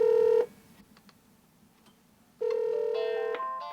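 Telephone dialing tones from a homemade alarm device calling a cellphone: a steady electronic tone, a pause with faint background, then a second tone sequence with a brief higher beep, loud and close.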